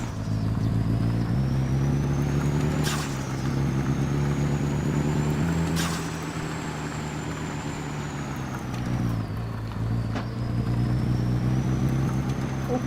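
A car engine drones steadily in a truck-driving video game, its pitch rising and falling with gear changes over a low rumble and a few sharp clicks, loud and continuous with no voices.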